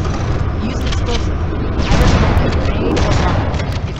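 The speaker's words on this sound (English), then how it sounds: "We need a catalyst explosion to destabilize the magnetic potential surrounding the fusion system." An explosive detonating at a fusion reactor in a sci-fi video game: a dense, loud rumbling blast with crackling bursts that swells midway and rolls on continuously.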